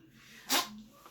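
A single short, sharp sneeze bursts out over quiet room tone, fairly close.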